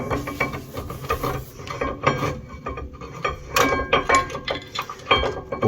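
New brake caliper being fitted on a Volvo C70: close metallic clinks, ratcheting and scraping of parts and tools in an irregular rhythm, with no talk.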